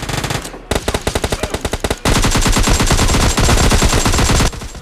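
Loud automatic gunfire in the mobile shooter PUBG Mobile Lite: a burst of evenly spaced shots, then a long sustained rapid volley that cuts off near the end.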